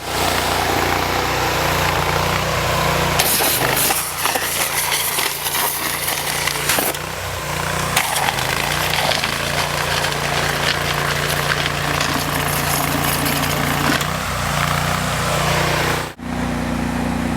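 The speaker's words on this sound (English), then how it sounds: "So I'm going to start the engine on the pressure washer." A pressure washer engine runs steadily for hot water jetting to clear a frozen 4-inch line, a continuous close mechanical drone with a brief dip near the end.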